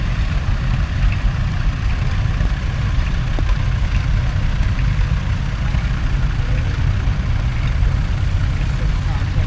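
Vintage tractors fitted with Perkins P6 diesel engines rumble past in a show parade, a steady low idling drone with continuous engine noise beneath someone commentating.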